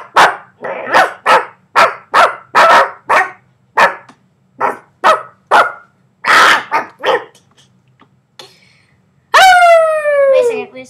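A person's voice imitates a dog, giving a rapid series of about fifteen loud, close bark-like yelps in bursts, then a pause and a final long, wavering howl-like cry.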